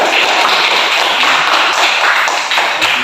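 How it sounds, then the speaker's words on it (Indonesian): A classroom of students claps together in a dense, steady burst of applause lasting a few seconds, loud and close, with no talking over it. "Tepuk tangan dulu ya."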